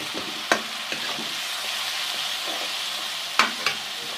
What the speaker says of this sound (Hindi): एक से दो मिनट इसकी भुनाई करेंगे ताकि कच्चापन चला जाए इसका